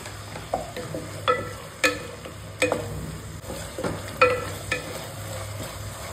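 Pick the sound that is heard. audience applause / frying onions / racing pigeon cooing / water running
frying onions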